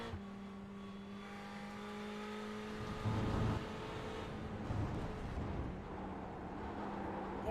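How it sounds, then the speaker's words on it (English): An onboard race car engine at Road Atlanta whines steadily with a sustained tonal drone, with a short louder surge partway through and gear-like shifts in pitch, with no voices. "Let's have a listen to Paulo Gallon here in P2"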